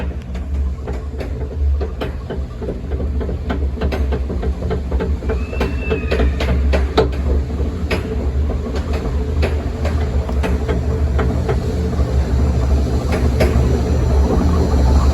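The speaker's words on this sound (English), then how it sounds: "this is actually an E&F Miler water coaster" An E&F Miler water coaster train on the Big Timber Log Ride at Enchanted Forest rolls along steadily with repeated clattering clicks and knocks from the track, a continuous mechanical roar throughout.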